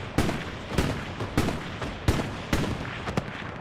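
Repeated heavy booms of tank guns and other gunfire in the Hell Let Loose game, on the Kursk map, fire in irregular bursts, about half a dozen loud reports with echoing tails.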